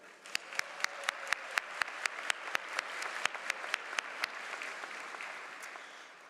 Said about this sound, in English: Please join me in a round of applause for your faculty